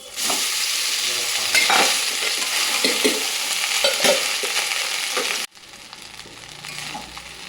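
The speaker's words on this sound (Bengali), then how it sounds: "এবার আমরা ভাত দিয়ে দিচ্ছি।" Rice with fried cashews and raisins is stirred in a hot frying pan, giving a steady close scraping and sizzling that runs continuously, then drops sharply quieter near the end.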